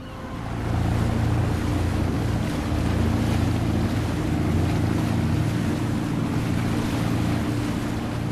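Mediterranean Sea waves wash and rumble steadily at close range, with continuous broadband surf noise and wind buffeting, no voices present.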